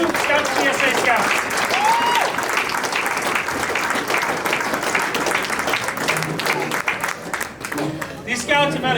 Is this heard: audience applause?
yes